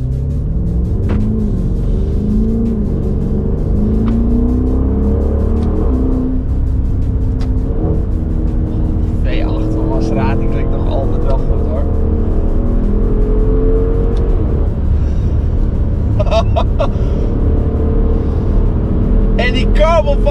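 Audi RS6 twin-turbo V8 with straight pipes, driven on the road: a loud, continuous engine drone that rises and falls in pitch as it accelerates and shifts, with people talking over it.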